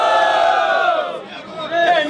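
A crowd at a rap battle in São Gonçalo roars with loud sustained cheering and shouting, a dense wall of voices that dips briefly and then surges back up.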